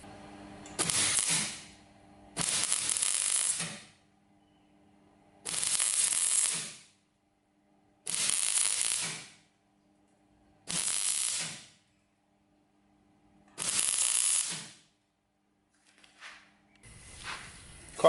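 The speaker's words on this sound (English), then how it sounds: "I'll take that over the MIG and just tack that in place" MIG welder tacking steel bonnet scoop panels onto a Toyota Landcruiser 200 Series, heard as six short sizzling crackling bursts of about a second each with pauses between, then a seventh starting at the end, close and fairly loud with no talk.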